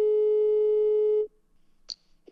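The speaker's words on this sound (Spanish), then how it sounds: "Voy a llamar otra vez, a ver." A steady telephone call tone plays while dialing the delivery man, then cuts off abruptly after about a second, followed by faint clicks and quiet room noise.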